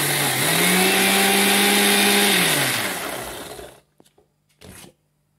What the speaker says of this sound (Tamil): அரைக்கும்போது ரொம்ப சுத்தமாக கண்டினியூஸாக மிக்சி வந்து இது பண்ணிகிட்டே சுற்றிட்டே இருக்க வேண்டாம், கொஞ்சம் விட்டு விட்டு அடிங்க.